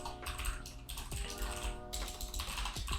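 Close, quiet clacking of keys on a computer keyboard as code is typed, bursts of rapid keystrokes with brief pauses, no voices.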